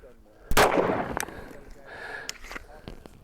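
A single loud gunshot from a .40 caliber pistol firing blunt-nose full metal jacket rounds, a sharp close crack at about half a second with a decaying tail, followed by fainter handling noises and quiet background.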